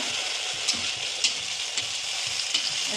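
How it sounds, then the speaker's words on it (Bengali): Malpua sweet pancakes frying slowly in hot oil, with a steady, close bubbling sizzle and occasional louder pops, heard alone without talk. "আমি আস্তে আস্তে ভাজি এগুলো"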